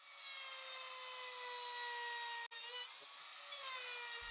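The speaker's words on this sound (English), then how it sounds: "Using the router with the 28mm corner breaking bit, I'll round all the edges of the item." A router fitted with a 28mm corner-rounding bit cuts along the edges of a wooden workpiece, giving a steady high-pitched whine with a brief cut-out midway, then continuing to the end.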